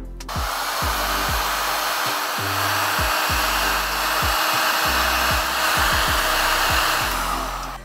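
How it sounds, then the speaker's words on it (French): A hair dryer melting butter blows steadily and loudly up close, its whooshing airflow constant, with soft intermittent knocks and clicks underneath. "Pour le faire fondre, vous avez plusieurs méthodes. Vous pouvez le faire au bain-marie, au micro-ondes ou, comme moi, un sèche-cheveux."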